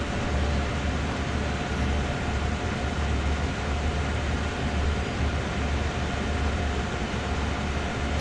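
A train in Train Sim World 2 rolls along with a steady, loud rumble and broadband hiss, a constant low drone running the whole time with no talk.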